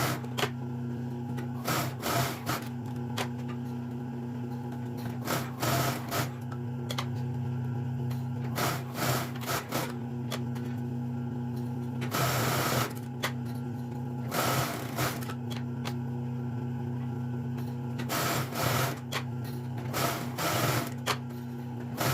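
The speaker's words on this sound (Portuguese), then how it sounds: "agora eu vou fazer um acabamento aqui no overlock" Overlock sewing machine finishing the edges of fraying fabric scraps for a tote bag, running in repeated loud bursts with steady mechanical whirring and short pauses between passes, no voices.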